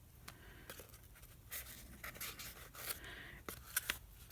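Scissors snip and scrape through heavy tape at the edge of cardboard while making a journal spine, a series of quiet, uneven cuts and rustles close up.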